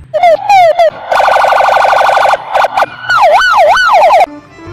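Loud electronic siren of a toy police car, cycling through rapid warbling tones and slower wailing sweeps in close, bright bursts with short pauses between them.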